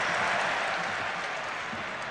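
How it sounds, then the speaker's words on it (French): A football stadium crowd at La Beaujoire applauds steadily during a Champions League match between Nantes and Manchester United, a broad, even wash of clapping heard from a distance. "Et le public de la Beaujoire, connaisseur qui applaudit ses favoris"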